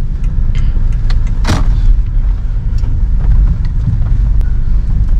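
A 2013 Toyota Innova V petrol with automatic transmission cruises along, its cabin filled with a steady low engine and road rumble, brief ticks and a short whoosh of passing air.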